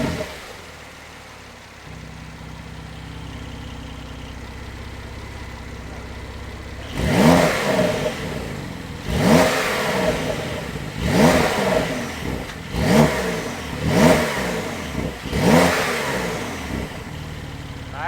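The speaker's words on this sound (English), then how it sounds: "Let's fire up this one with that Sport Tune exhaust so we can hear what it sounds like." A 2021 Porsche 911 Carrera S with a sport exhaust revs hard in six sharp bursts, each a loud rising roar with crackling exhaust, after a steady idle rumble.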